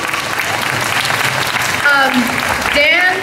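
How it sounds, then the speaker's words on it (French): A convention audience applauds a translator on stage, steady loud clapping throughout, with a voice speaking over it in the second half. "Et on applaudit Dan, évidemment, bien évidemment, on applaudit notre traducteur émérite"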